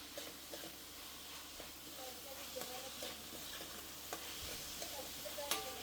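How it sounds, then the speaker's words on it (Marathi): Vegetables sauté in a hot pan with a faint, steady sizzle and soft stirring scrapes, all quiet and continuous. "आता थोड्या भाज्या सॉते करून घेतो आम्ही फटाफट"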